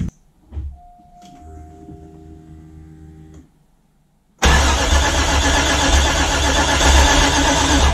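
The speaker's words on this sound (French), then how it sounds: "Le but, c'est de faire tourner à peu près une trentaine de secondes le démarreur pour amorcer la pompe à huile" A 1993 Cadillac 4.6 L Northstar V8 on its starter, first a steady mechanical whir for a few seconds, then a loud, dense, continuous cranking roar that runs unbroken to the end, with no engine catching.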